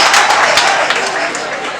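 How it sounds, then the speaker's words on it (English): Dense, loud applause from a crowd of parents and staff at a school PTA meeting at Inset College, steady and close throughout with no talk on top. "Si vous aimez le collège Inset, applaudissez-les"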